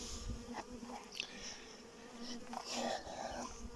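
Carniolan honeybees buzz around their hive during rapeseed flow, a dense, continuous droning hum with individual bees passing close and fading in and out.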